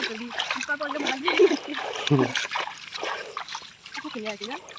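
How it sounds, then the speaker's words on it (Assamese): Floodwater splashes and sloshes as someone moves through it, with repeated close splashes mixed under a person talking. "পানীৰ মাজে মাজে যাই আছোঁ।"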